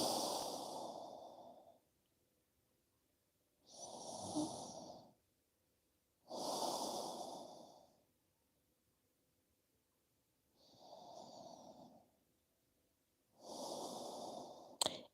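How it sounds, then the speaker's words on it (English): Slow, relaxed nasal breathing during a yoga stretch, with five soft, close inhales and exhales separated by quiet pauses. "relax, breathing through your nose"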